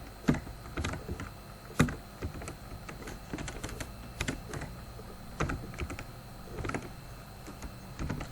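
Fingers type Java code on a computer keyboard in a steady, irregular patter of close key clicks, with a few sharper strikes standing out over a faint background hum.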